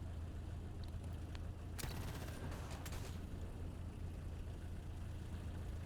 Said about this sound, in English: Alright, heavy machine gunner. You're going to shoot out here.